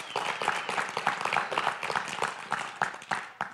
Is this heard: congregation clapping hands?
yes